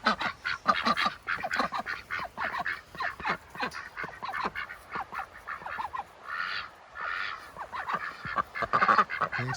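Ducks on a farm calling out in the morning: a flock of loud, nasal quacks and honks in overlapping bursts, close by and continuous.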